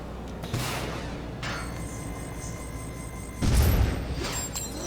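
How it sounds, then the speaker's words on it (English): An explosion in LEGO Batman 2 bursts out as a broad rumbling blast late in the passage, following softer whooshing game noise and lingering as a low roar. "that explosion was kind of underwhelming"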